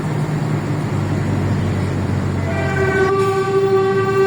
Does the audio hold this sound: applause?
no